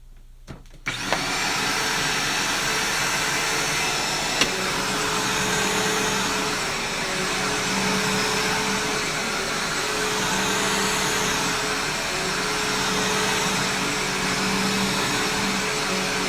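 Two reconditioned vacuum cleaners switch on after a click and run together, a loud steady whine with a constant tonal hum and a brief tap partway through, no voices.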